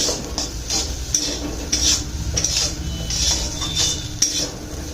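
A metal spoon clinks and scrapes repeatedly against a bowl while mashed potato, egg and salt are mixed for bread chops, in a steady rhythm of bright taps.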